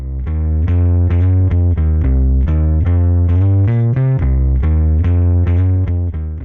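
A music loop run hard through a distortion effect, its low and low-mid energy driving the saturation; dense, sustained and loud, with a steady repeating rhythm of chord changes and no talk.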